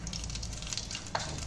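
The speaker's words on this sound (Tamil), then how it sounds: "எண்ணெய் காஞ்செடுத்து நம்ம கடுகு போடுறோம்" Mustard seeds crackle and sizzle in hot oil while tempering for South Indian rasam, a soft continuous frying hiss with small pops and one sharper crackle near the end, close and fairly quiet.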